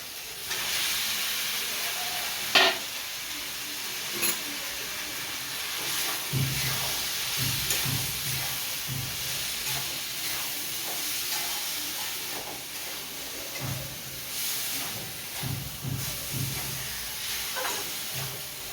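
Chopped ash gourd frying in a pan, a steady broad hiss of steam and sizzle running throughout, with occasional soft stirring scrapes and clatters, fairly close and alone.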